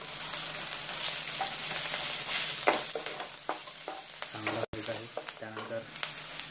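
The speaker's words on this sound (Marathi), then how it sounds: "कांदा आपल्याला लालसर असा चांगला भाजलेला आहे। तर आता आपण त्यात मिक्स करणार हळद" Onion browned reddish in a pan, with half a teaspoon of turmeric added, fries with a steady close sizzle while a spoon stirs and scrapes in short bursts.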